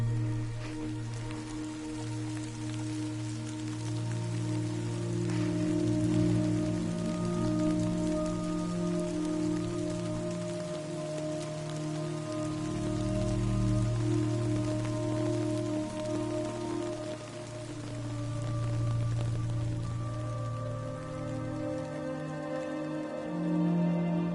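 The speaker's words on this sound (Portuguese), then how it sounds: "Está aqui a chuva toda?" Steady, heavy rainfall in the video game Death Stranding, a continuous dense patter of drops on surfaces that swells and eases slightly but never stops, heard on its own with no talk.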